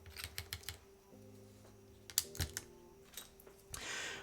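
Typing on a custom Mode Sonnet mechanical keyboard built in top mount configuration with keycaps fitted: bursts of close, crisp keystrokes in short irregular runs, separated by pauses, with a faint background hum.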